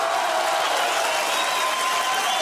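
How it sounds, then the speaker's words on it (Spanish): An audience at a show applauds for don Jaime, a steady, dense roar of clapping and crowd noise that holds evenly from start to finish with no gaps. "Un aplauso para don Jaime."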